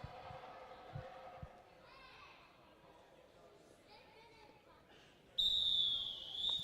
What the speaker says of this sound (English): That's the rolling whistle.